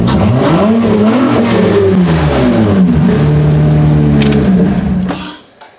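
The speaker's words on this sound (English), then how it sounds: "Let's give her a little rev, see if she revs up." A Honda Accord engine, running without its instrument cluster fitted, revs up and down several times, loud and close, its pitch rising and falling before cutting off abruptly at the end.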